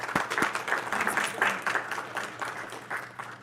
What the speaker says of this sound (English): Would you please give her another applause?